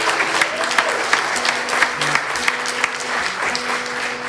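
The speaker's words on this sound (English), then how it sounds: "can we have a round of applause for our speakers" Crowd applause for speakers at an outdoor May Day rally in Edinburgh, steady many-handed clapping with a low hum beneath and a few sharper claps standing out.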